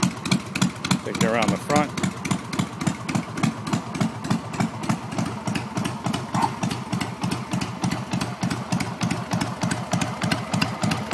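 Vintage XL motorcycle engine idles with a steady, close rumble and an even pulsing beat throughout, while a person speaks briefly over it.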